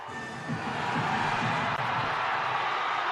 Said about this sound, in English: there goes the Grand Street crowd